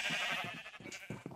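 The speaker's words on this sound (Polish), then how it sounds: "Tu mam hodowlę owiec i to sobie hoduję czerwone owce," Sheep on a video game sheep farm give several short bleats in quick succession, close and fairly loud, with no talk.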